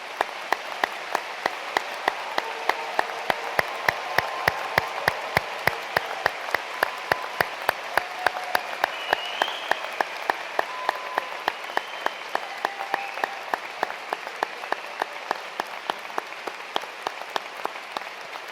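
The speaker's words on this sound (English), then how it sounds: "please join me in a round of applause for today's graduates" Audience applause for graduates at an Edinburgh University Law School graduation ceremony, steady dense clapping sustained throughout, fairly even and moderately near, with no voices.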